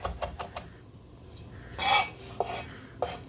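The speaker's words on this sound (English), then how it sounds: "run the knife through it a couple of times" A kitchen knife chopping fresh herbs on a cutting board, with a quick run of light taps, a pause, then a few louder scraping strokes near the end, close and without talking.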